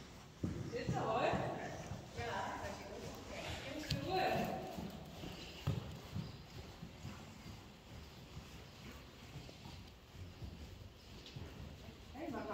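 A Friesian horse walks with clip-clopping hoofbeats, fairly faint and irregular, under a person's spoken riding instructions and ambient noise.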